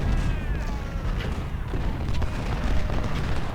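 Artillery fire rumbles continuously in an Ultimate General: Civil War battle at Shiloh, a dense, loud mass of low booms and blasts rolling without pause and without any talk over it.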